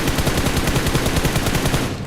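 An M416 assault rifle fires a sustained rapid burst in the mobile battle royale game BGMI, loud evenly spaced shots rattling without pause until the burst cuts off at the end.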